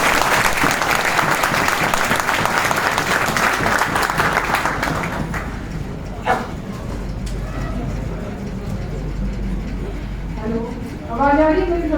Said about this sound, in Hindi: सभी एक बार जोरदार तालियों के साथ